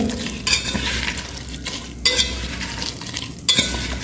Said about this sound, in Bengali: এভাবে সব দিক থেকে সবগুলো আলু, পেঁয়াজ, মরিচ, তেল, লবণ, হলুদ দিয়ে সুন্দর করে আপনি মাখিয়ে নেবেন।